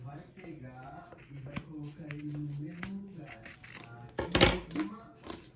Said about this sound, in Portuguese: Vou cortar aqui para que ele fique bem retinho.